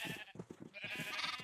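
Sheep bleating in the video game Minecraft, a few short wavering bleats in quick succession, close and clear with nothing else over them.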